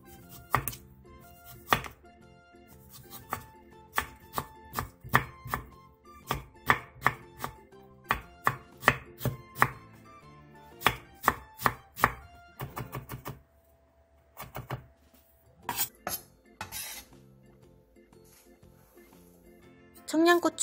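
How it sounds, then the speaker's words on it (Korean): A knife chops quickly through pickled radish (danmuji) on a cutting board, making dozens of crisp, close, rhythmic thunks in bursts with a short pause midway, and no one talks. "통단무지 3분의 1개도 비슷한 크기로 다져주세요"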